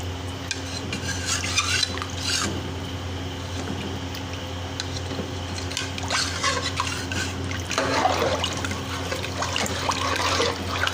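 A dal mixture for haleem is stirred in a pot with a steady scraping, sloshing sound, joined by occasional metallic clinks and a constant low hum in the room.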